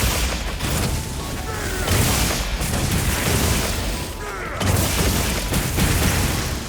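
Charge blade attacks in the video game Monster Hunter World set off dense, continuous explosions and impact booms with metallic weapon clanks, loud and busy throughout with little break.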